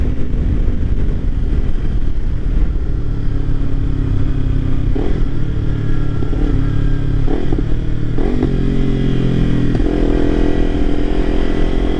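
A Kawasaki Ninja 300 motorcycle engine screams at high RPM under riding wind noise, its pitch shifting with gear changes.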